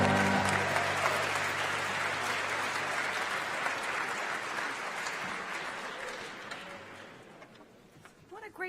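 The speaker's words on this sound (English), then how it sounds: "Can we give a round of applause to the UB Blake Chamber Ensemble?" An audience claps for a university chamber ensemble at an inauguration ceremony, with sustained dense applause in a hall that slowly thins and fades.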